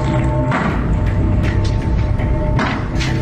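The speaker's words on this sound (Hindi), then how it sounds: "दूसरा हथौड़ा" Two heavy hammer blows strike a mosque wall in Pakistan, each a loud, dull thud with a crunch of breaking masonry, a couple of seconds apart over a noisy outdoor background.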